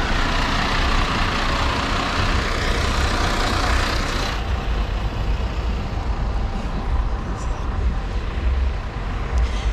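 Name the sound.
bus driving past on a town street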